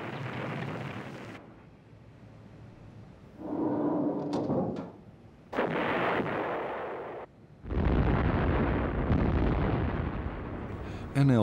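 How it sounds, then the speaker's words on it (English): Heavy artillery bombardment and airstrikes from the Vietnam War, during Operation Crimp, come as loud rumbling bursts and sustained roaring blasts separated by short lulls. "Operation Crimp began with massive airstrikes and artillery bombardments"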